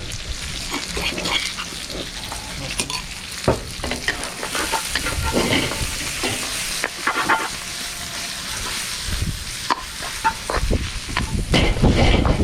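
Leeks, garlic and ginger frying in a pan, a continuous crackling sizzle punctuated by clattering stirs and tosses from a utensil, close and fairly loud with no speech.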